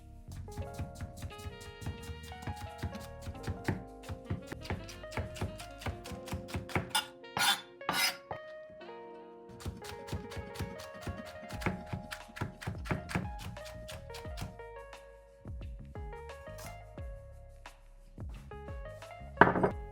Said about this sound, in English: Now for our green onions, and we're simply just going to cut this crosswise into thin pieces while separating the white from the green.